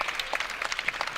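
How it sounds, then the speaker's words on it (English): The Franklin and Marshall wrestling team bench claps quickly and irregularly at a college wrestling match, a short burst of close applause from a small group. "Franklin and Marshall bench getting up and at it, cheering on Bender here"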